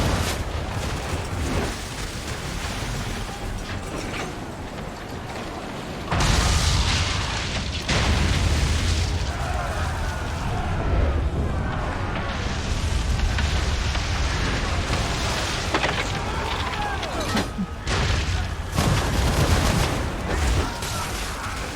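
Ship cannons fire in a naval battle in Assassin's Creed III, heavy booms breaking out over a constant loud roar of wind and sea, with several bursts spread across the stretch.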